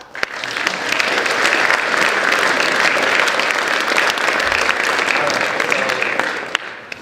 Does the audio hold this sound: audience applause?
yes